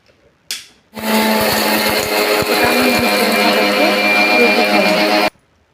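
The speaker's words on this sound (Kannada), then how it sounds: "ಒಂದು ಮಿಕ್ಸಿ ಜಾರಿಗೆ ಪುಟಾಣಿಯನ್ನು ಮಿಕ್ಸಿ ಮಾಡಿಕೊಂಡು ಬರೋಣ" Mixer grinder powders roasted gram in a jar, with a brief whir, then a loud, steady high-pitched motor whine running about four seconds with rattling from the jar before cutting off abruptly.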